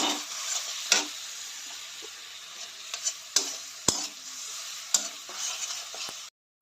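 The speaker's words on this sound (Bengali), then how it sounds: "একটু জল দিয়ে ভেজে নেবো যেন মশলাগুলো পুড়ে না যায়।" Ground chilli, turmeric, cumin and coriander paste fries with a little water in a pan, hissing softly while a spatula scrapes and taps the pan every second or so, then everything cuts off abruptly.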